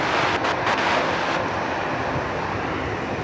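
An airliner lands on runway 34 left at Sydney Airport, its engines giving a loud, steady roar with heavy rushing noise and wind buffeting on the microphone throughout. There is no talking.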